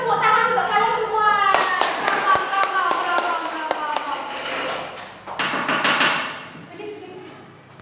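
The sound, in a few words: class applauding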